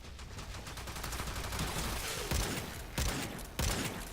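The Euphona Prime shotgun fires in Warframe amid a dense rattle of rapid gunfire, with three heavier blasts standing out near the end, somewhat faint overall.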